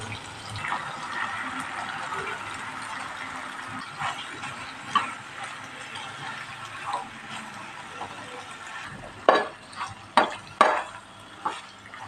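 Pasta is stirred into a spicy gravy in a pan, giving soft wet squelching and low bubbling throughout, then a run of sharper spoon clinks and scrapes against the pan near the end, close and moderately quiet.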